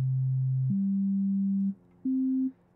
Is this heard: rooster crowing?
no